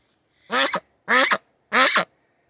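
Three loud, harsh quacks from a female duck in an even rhythm, each about a quarter second long, close by with quiet gaps between.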